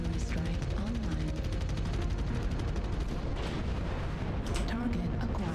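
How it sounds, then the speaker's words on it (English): Artillery strike explosions in the MechWarrior Online video game, a dense, continuous rumble of booms and impacts that holds steady throughout, mixed with game sounds. "Artillery strike online."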